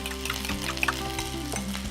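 Potato slices sizzle steadily in a frying pan for a Spanish tortilla, with occasional scrapes and clinks as the spuds are stirred, close and continuous with no talking.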